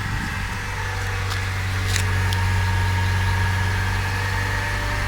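A Mercedes-Benz W202 C-Class engine idles steadily nearby with a low, even hum and faint vibration, a couple of small clicks over it, no talking.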